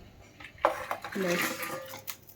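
Lentil fritters made with mung dal are dropped into a pot of curry, giving a brief clatter of utensil against the pot followed by softer bumping and a low sizzle, with a voice talking faintly in the background.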